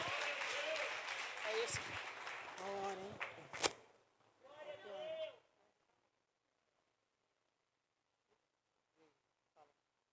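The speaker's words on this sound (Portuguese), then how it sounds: "Aplauda Jesus pela vida missionária" Church congregation applause during a consecration service, a wash of clapping with voices over it that fades out after about five seconds into near silence with a few faint knocks.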